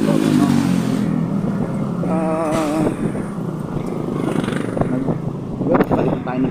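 A Rusi RFi175 motorcycle engine idling and running with a steady low rumble, a brief revving swell partway through, while someone talks over it throughout.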